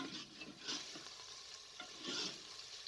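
Half a kilo of beef with onions sautés in a pot, a quiet sizzle broken by several stirring scrapes and spoon clatters at an uneven pace, with no talking.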